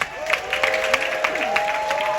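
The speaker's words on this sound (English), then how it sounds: "How about another big round of applause for all 3 couples?" Applause from a cruise ship show audience for three couples on stage, a crowd clapping steadily at moderate loudness while a voice talks over it.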